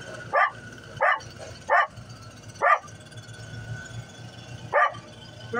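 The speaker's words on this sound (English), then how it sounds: "He's barking because, you know, the machines are scary for him" A frightened dog barks in five sharp, separate bursts spaced a second or so apart, fairly close, over a low steady hum from machines.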